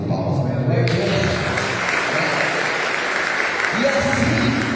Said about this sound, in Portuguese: Salva de palmas, meu Deus